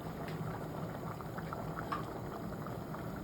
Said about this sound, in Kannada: ನೋಡಿ ವೀಕ್ಷಕರೇ, ಕುದೀತಾ ಇದೆ.